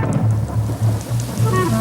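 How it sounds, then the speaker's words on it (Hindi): Cartoon storm effects of steady rain hiss with a rumble of thunder, loud and continuous over a repeating low tonal pattern of background music. "बारिश हो रही है"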